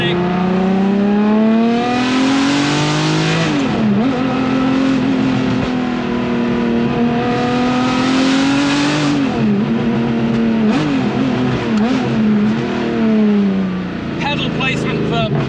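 A straight-piped Ferrari F50 V12 revs loud and close, its harmonic-rich wail climbing and falling through two long throttle sweeps with brief dips between, ending in a lighter, crackling tail.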